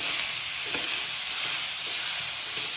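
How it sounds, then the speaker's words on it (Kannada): Onion and tomato masala fries in a pan for a North Karnataka-style spicy chicken curry, giving a steady, close, continuous hiss of sizzling oil with no voices. "ನಾವು ಇದರಲ್ಲೇ ಸ್ವಲ್ಪ ಫ್ರೈ ಮಾಡೋಣ ಅಂಥೇಳಿ ಹಾಕ್ತಿದ್ದೀವಿ."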